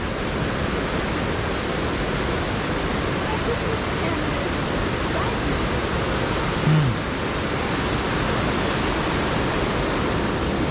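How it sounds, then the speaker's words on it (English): A waterfall in the New England region, with water pouring over the top into a pool below, makes a steady, loud, broadband roar that stays even throughout. "all the energy in the top of the waterfall here"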